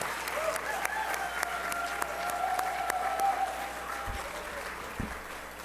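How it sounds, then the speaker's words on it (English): An audience at a gala event claps together in a sustained, even round of applause. The clapping is fairly distant and soft, and a voice is heard faintly underneath. "Please give them a big round of applause"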